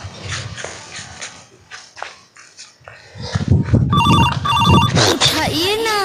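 A telephone rings in repeated electronic trills, loud and close, over a busy background of voices and movement.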